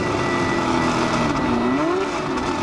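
A 1969 McLaren M9A race car's engine drones loudly and steadily while driving, its pitch dipping and rising again as it shifts through the revs, close and continuous with no talk.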